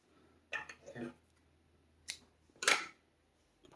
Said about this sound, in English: Pull your yarn tight, cut it,